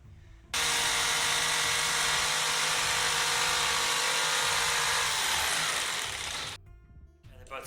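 A power tool cuts 16mm and 12mm MDF rings for an R2-D2 dome, a loud, close, sustained whine running about six seconds before it abruptly winds down and stops.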